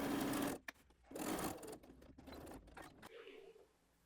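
Sewing machine understitching the seam allowance to the lining of a milkmaid-style dress, running in short close bursts broken by brief pauses, fairly quiet and alone.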